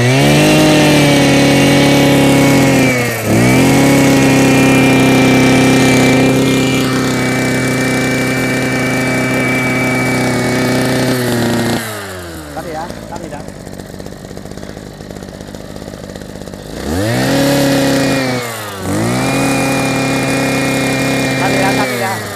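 A small two-stroke brush cutter engine runs loudly and steadily, cuts out to a quieter sputter, then roars back up.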